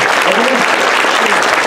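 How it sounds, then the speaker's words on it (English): Crowd applause at a live gaming show event, loud steady clapping from a packed audience filling the room without pause. "Look at the claps."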